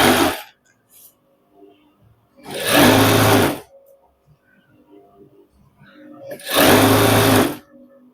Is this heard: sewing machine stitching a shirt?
yes